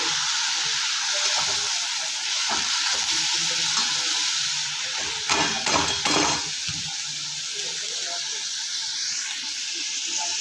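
Methi bhaji, fenugreek greens, fries in oil in a pan with a steady broad sizzle, joined midway by a brief burst of clattering utensil scrapes, no clear talk.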